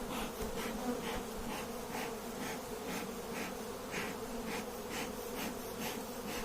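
Honey bees buzz as they are shaken off a brood frame from a hive, a steady swarming drone with rhythmic pulses from the shaking, close and fairly quiet, with no talk.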